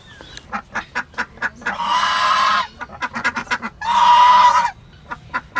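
Ducks kept for laying eggs honk and quack in a loose series of short calls, broken by two longer, louder bursts of harsh overlapping calling, close by with no talk.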